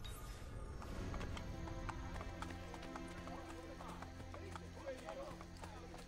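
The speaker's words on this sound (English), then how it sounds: "Oh, Detla, you haven't seen my horse yet." Horse hooves clop in Assassin's Creed Brotherhood, a steady run of quiet hoofbeats among soft game ambience and music, faint throughout.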